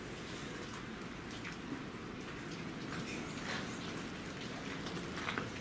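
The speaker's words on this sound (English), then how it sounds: "The rain's starting to come down pretty hard," Heavy rain pours down in a constant hiss, with scattered drops pattering on a nearby surface, heard from inside an abandoned Gothic building on Staten Island, New York City.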